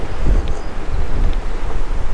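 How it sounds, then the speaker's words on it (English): Strong, steady wind gusting across the exposed shoreline of Lake Texoma at a campground, a continuous loud low roar buffeting the microphone with rumbling surges throughout. "Simply, it's just so windy."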